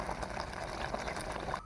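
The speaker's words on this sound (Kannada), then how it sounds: "ನೋಡಿ ಒಂದು ಕೊದಿ ಬಂದರೆ ಆಯಿತು." Black togari (black pigeon pea) gasi curry simmers in a pot, giving a soft, continuous bubbling that stays faint and close for under two seconds.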